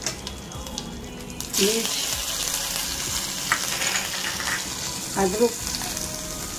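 Cumin, carom seeds and asafoetida hit hot oil for an Indian arbi dish and start frying with a sudden loud hiss that holds steady, broken by a few stirring scrapes, while someone talks over it.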